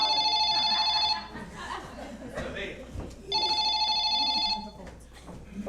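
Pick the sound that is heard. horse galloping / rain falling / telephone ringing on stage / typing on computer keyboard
telephone ringing on stage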